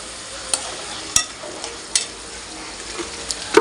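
Green chilies frying in oil with turmeric for a tomato curry, a steady soft sizzle with several sharp spoon clinks against the pan as it is stirred.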